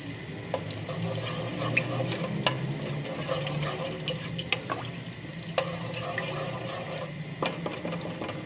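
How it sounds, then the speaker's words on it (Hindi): Cumin seeds frying in hot oil in a pan, a continuous sizzle with sharp crackles and pops scattered through it, close and fairly loud with no talking. "ज़ीरे को थोड़ा फ्राई कर लेंगे ऑयल के साथ"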